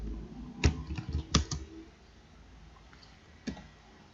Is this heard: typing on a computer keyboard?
yes